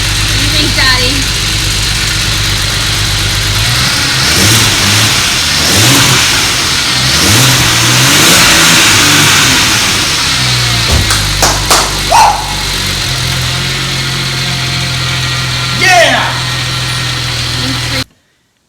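A swapped-in BMW N54 engine in a car revs hard several times, loud and close, over a steady idle, with a few sharp clanks and brief voices in between.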